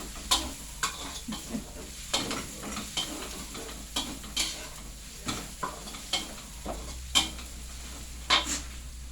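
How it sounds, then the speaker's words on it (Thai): Garlic frying in a pan, a continuous close sizzle punctuated by regular sharp scrapes and taps of a utensil stirring against the pan, roughly every half second to second. "เจียวกระเทียมแป๊บนึงเจียวกระเทียมไว้"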